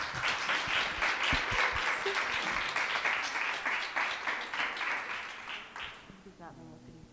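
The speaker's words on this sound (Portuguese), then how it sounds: "E uma salva de palmas para eles." Applause from a small studio audience welcoming podcast guests, dense steady clapping for about six seconds that then fades out as a voice begins speaking.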